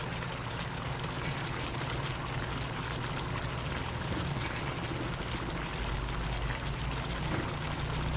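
Water is poured into a cooking pot of coconut-milk paksiw with pork belly and eggplant, a steady broadband splashing stream running at even loudness for the whole stretch with no talk over it.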